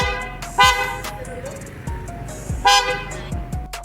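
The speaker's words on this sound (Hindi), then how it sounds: "अब मैं आपको इसका रिस्पॉन्स चेक कराता हूँ एक बारी।" Newly installed Creta car horns sounding in a series of loud, close honks, several short blasts and a couple of longer tones with brief gaps between, over faint background noise.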